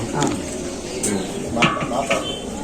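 Biryani stirred in a pot with meat after hot water is poured in, giving metal scraping and clinking of a spoon against the pot in short bursts, close up, with a person talking over it in a village cooking setting.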